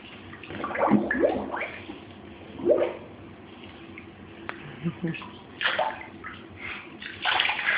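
Water is poured over a child's head in a bathtub, giving soft irregular splashes and trickling bursts at a modest level, with quiet pauses between pours.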